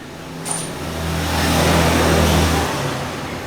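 A motorcycle engine running after a fresh seal and cylinder replacement, a steady mid-pitched idle that swells as it revs slightly, then cuts back near the end.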